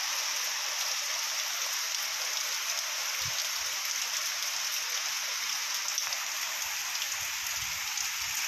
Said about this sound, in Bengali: দেখুন কীভাবে বৃষ্টির চাপ